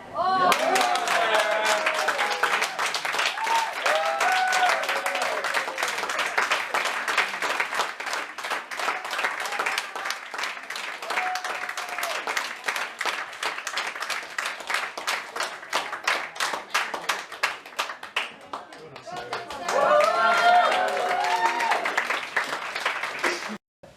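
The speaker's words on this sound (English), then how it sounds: "I think we definitely need another round of applause for Judy." An awards-night audience claps in sustained, dense applause that carries on for a long stretch, dips briefly, then swells again near the end, with voices mixed in.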